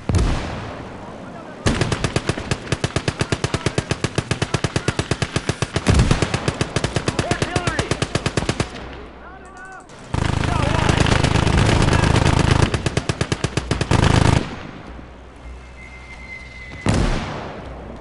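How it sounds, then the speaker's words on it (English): Mortar and machine gun fire in the Close Combat: Gates of Hell war game: long, loud bursts of rapid automatic fire with heavy booming impacts, a short lull, then another sustained barrage and a final blast, with voices talking faintly underneath. "We've got a mortar on us."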